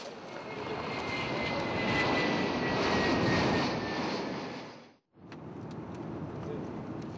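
Inside an airplane cabin in flight, engine noise makes a loud, steady broadband roar that cuts out abruptly for a moment and then resumes.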